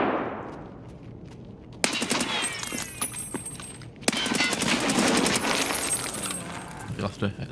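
Automatic gunfire on the Factory map in Escape From Tarkov, two loud bursts of rapid shots ringing in an enclosed space, with clinking shell casings and a voice talking over it.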